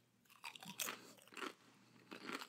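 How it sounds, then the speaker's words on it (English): Someone bites into and chews thick Taco Bell Diablo tortilla chips, giving three or four loud, close crunching bursts separated by short pauses, with no talk. "there it is, that crunch"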